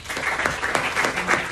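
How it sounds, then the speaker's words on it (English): An audience at an anesthesiology department foundation day ceremony claps in a brief, even round of applause, with many hands heard at moderate distance and no voice over the clapping. "A round of applause, please."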